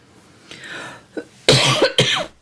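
A soft throat sound, then two loud, harsh coughs in quick succession, close by.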